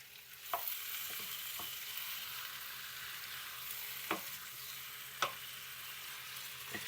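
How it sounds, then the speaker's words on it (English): A spoon stirs paprika sizzling in a pot for Hungarian pork stew, a continuous soft frying hiss broken by several sharp scrapes and clicks against the pot, close and fairly quiet. "you need to keep stirring your shit, because you don't want your paprika to burn"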